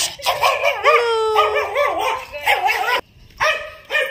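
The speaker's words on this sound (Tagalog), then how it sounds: "Ayan, may aso din." A dog barks and yips repeatedly nearby, in quick excited bursts with short pauses between.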